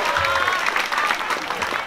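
An audience claps steadily at a Balinese Calonarang comedy performance, a dense, continuous patter of applause with crowd noise underneath.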